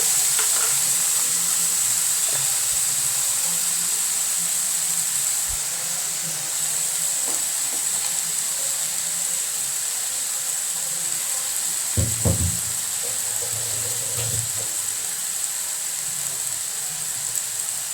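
Vegetables fry with salt in a hot pan, making a continuous loud sizzle for the whole stretch. Occasional scraping stirs break through, with one heavier clatter near the middle.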